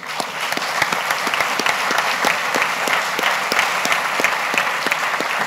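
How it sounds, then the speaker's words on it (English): Warm applause for reporters at a formal delegation session, a dense, loud, even patter of many hands clapping throughout, no speech over it. "Can you give the one warm applause to the reporters?"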